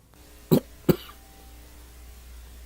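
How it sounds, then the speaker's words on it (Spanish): Two sharp, close coughs from a man a fraction of a second apart, followed by quiet room tone. "No quiere quitarse esa tos."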